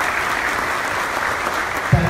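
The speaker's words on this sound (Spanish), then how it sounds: "que pide un aplauso, Tamara." Dense, steady applause from a crowd fills the clip without pause, loud and even throughout.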